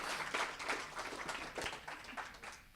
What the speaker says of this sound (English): Warm round of applause for Simon again.